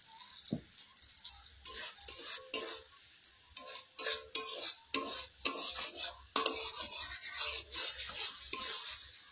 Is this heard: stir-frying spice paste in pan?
yes